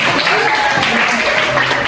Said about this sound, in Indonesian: kasih tepuk tangan kepada